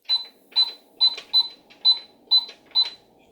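Buttons on a Mickey Mouse Clubhouse toy cash register give seven crisp electronic beeps in a fairly even rhythm, each short and bright, close and clear against near silence.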